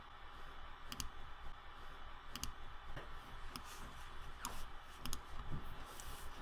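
Faint, sharp computer mouse clicks come at irregular intervals, roughly six or seven of them, over a quiet background hiss.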